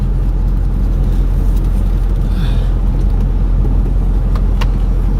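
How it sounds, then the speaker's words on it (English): A car drives along roads in the flood aftermath around Kerrville, Texas, heard from inside as a steady, loud low engine and road rumble with tire hiss, continuous throughout, with a brief faint higher whine partway through. "We're gonna do a little bit of driving"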